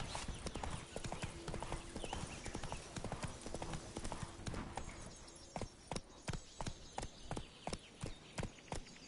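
Horse hooves clip-clop in a steady galloping rhythm in The Witcher 3 video game. Close, even beats continue throughout with faint background ambience.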